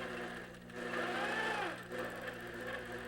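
A sewing machine stitching a quilt, its motor humming steadily with a rising and falling whine as the speed changes, heard up close without talk.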